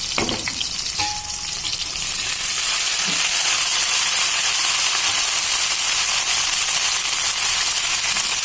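Chopped ajwain (vamaku) leaves frying in a pan, a steady loud sizzle that swells after the first couple of seconds and holds as an even hiss, with a few faint stirring clinks and no voices.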